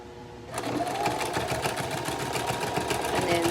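Sewing machine stitching a key fob wristlet, starting after a short quiet moment and then running as a steady, rapid mechanical whir and needle chatter, close and fairly loud.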